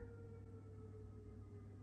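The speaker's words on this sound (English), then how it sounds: "I don't know if you can hear the siren." A weekly siren sounds outside, a faint steady wail heard from indoors over a low background hum, with no talk.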